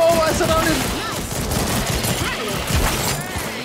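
Dense gunfire and shooting in the VR zombie game After the Fall, a chaotic continuous clatter of shots with overlapping muffled voices talking throughout.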